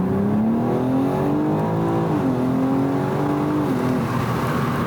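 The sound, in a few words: BMW M4 car launching with launch control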